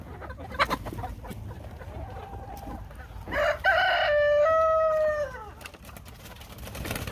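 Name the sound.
chickens and rooster clucking and crowing in coop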